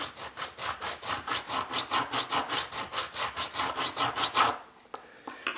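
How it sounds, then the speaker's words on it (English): A diamond file cuts a channel into a Maglite flashlight body in quick, even rasping strokes, about four per second, loud and close, before stopping near the end. "Then I have a couple diamond files. A diamond file will give you a little finer finish."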